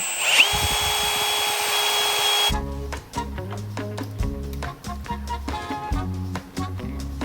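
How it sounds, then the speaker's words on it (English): A loud, steady power-drill whine for a couple of seconds, then a rhythmic series of grinding, clattering bursts as the drill bites into metal lubricated with cutting oil. "test it with your drill, and make sure you use cutting fluid or some type of oil, and then just drill straight down"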